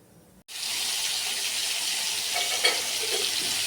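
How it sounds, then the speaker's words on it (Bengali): Half-boiled small new potatoes fry in hot oil in a kadai, giving a steady, close sizzle that starts suddenly and continues evenly with faint crackles. "আলু আমার ভাজা হয়ে গেছে"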